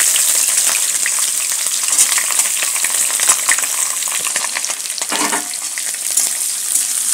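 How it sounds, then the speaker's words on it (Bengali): Onions fry loudly in a pan with bay leaves, cloves, cinnamon and cardamom, a dense continuous sizzle with occasional stirring scrapes and no talk. "পেঁয়াজটাকে ব্রাউন ব্রাউন করে ভেজে নেবো বন্ধুরা"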